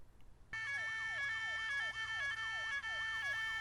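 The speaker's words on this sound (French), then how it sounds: "l'alarme incendie de la mairie de Pyrgos s'est déclenchée" A loud electronic alarm starts abruptly and keeps sounding, a repeating falling sweep over a steady high tone, with no voices.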